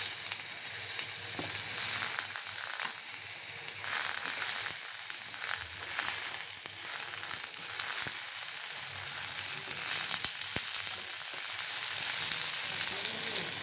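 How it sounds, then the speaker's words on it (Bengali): Pieces of pointed gourd (potol) fry in hot oil in a pan with a continuous, even hiss and crackle throughout, close by, with occasional faint clicks and no voices. "এখন আমি পটলগুলো একটু ভেজে নিচ্ছি"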